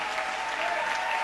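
A church congregation at a Sunday service claps and cheers for the Lord, a dense, steady wall of applause filling the room throughout.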